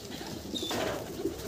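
Pigeons coo softly in a loft among prized racing, tippler and Madrasi breeds, with a faint higher call partway through and low murmuring throughout, no talk.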